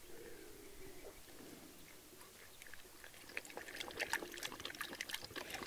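Water is poured out for a thirsty dog at a vineyard trellis build, a faint trickle that grows into quick splashing and dribbling toward the end, without speech.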